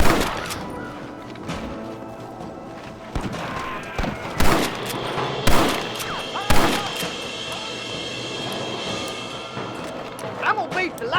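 Gunfire in a Wild West shootout in Red Dead Redemption, with several loud close gunshots cracking at irregular intervals over a busy, rumbling battle background, with voices heard during the fight.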